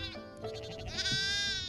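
Welsh sheep bleat loudly and close by, a hardy breed native to Wales, with overlapping nasal calls that swell into a long sustained bleat across the clip, no talking.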